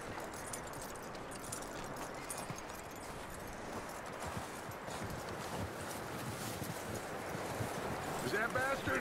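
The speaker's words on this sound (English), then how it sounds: "That looks like a decent horse." Horse hooves clip-clop steadily on ground in the video game Red Dead Redemption 2, a continuous close rhythmic trotting under wind-like ambience, with talk over it.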